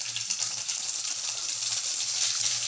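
Mustard and cumin seeds hitting hot oil for a tempering, a continuous loud hissing sizzle with fine crackle, close and steady throughout with no talk.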